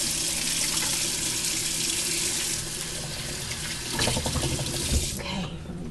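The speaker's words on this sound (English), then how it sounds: "I'm going to wash my hands." Water runs steadily from a kitchen tap into a sink while hands are washed under it, a continuous close splashing hiss that shifts and thickens briefly near the end as the flow is disturbed.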